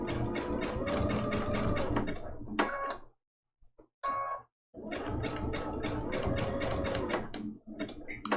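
A sewing machine runs in a fast mechanical whir as it stitches down a raw-edge applique piece on a Christmas ornament trivet quilt, stops briefly, then resumes with one short burst and a longer run, close and loud.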